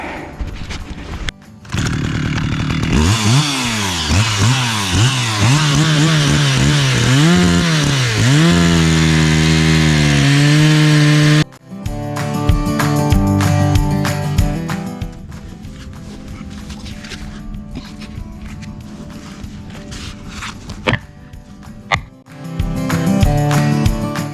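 A chainsaw plunge-cuts into the trunk of a shade tree leaning over a house, a loud sustained roar with pitch swooping as the bar bites, then stopping abruptly before choppier saw bursts resume.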